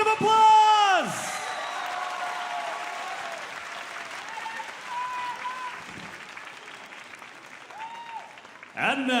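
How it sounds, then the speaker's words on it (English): Applause and cheering from a large audience at the Miss International 2024 pageant, which fades gradually under sustained musical tones before swelling again briefly at the end. "Give them a huge round of applause."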